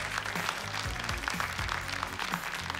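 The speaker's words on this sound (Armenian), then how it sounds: "խնդրում եմ մեկիկ ծափարենք, էլի եւս մեկ անգամ" A studio audience at a televised singing contest quarterfinal claps steadily, a dense continuous wash of applause at even loudness throughout, with faint music underneath.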